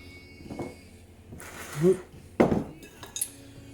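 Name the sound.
bowl being moved on a kitchen counter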